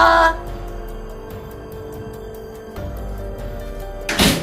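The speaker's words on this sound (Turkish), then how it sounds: "Ay, o kapıyı kim kapadı?" A door in a house slams shut in a single loud thud near the end of a horror game scene, following a steady stretch of quiet ambient background tones.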